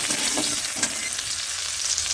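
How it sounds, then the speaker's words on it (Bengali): Steady sizzling of onion, green chili and garlic frying in hot oil for a dal tempering, with a couple of brief stirring scrapes early on, close and fairly loud. "এখানে পেঁয়াজ লঙ্কা একটু রসুন ভাজি।"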